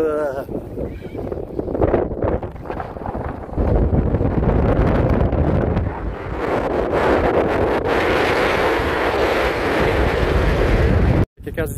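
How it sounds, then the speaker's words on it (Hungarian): Strong wind buffets the microphone on an exposed stop near the Pikes Peak summit, a loud, continuous rumbling roar that swells partway through and cuts out abruptly near the end, with some speech mixed in. "Megint rohadtul fúj a szél, úgyhogy rövid lesz ez a megálló."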